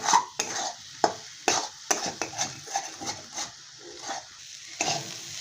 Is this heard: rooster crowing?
no